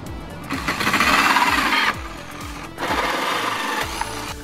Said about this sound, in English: get the hole saw onto the drill and